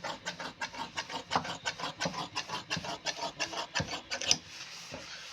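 Scissors snip steadily through shirt lining fabric at a quick, regular rhythm, dozens of close crisp cuts in a row, then fall quiet near the end.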